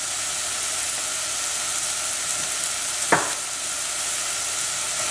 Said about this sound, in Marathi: कांदे सुबेज भाजूंक नाका